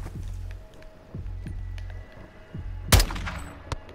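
In a Call of Duty Modern Warfare 2 campaign battle, several spaced, booming shots ring out, followed by one sharp, loud crack near the end.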